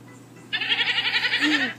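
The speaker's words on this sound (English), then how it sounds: "Goat." A goat bleats once in a long, quavering, wavering cry that starts abruptly, lasts over a second and is heard near and loud with nothing else behind it.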